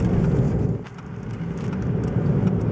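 A car takes a corner on the race line, its engine and tyre-road noise a steady close rumble that dips briefly, then holds, with no voices.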